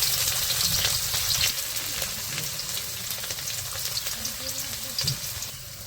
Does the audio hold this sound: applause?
no